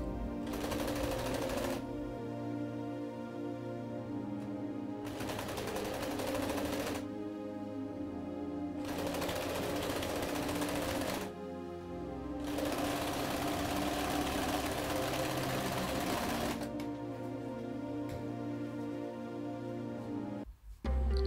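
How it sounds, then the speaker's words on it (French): Domestic sewing machine stitching a second seam on the wrong side of high-waisted shorts, steady mechanical whirring in bursts of a few seconds separated by short pauses, close and alone. "je refais une deuxième couture, cette fois-ci sur l'envers"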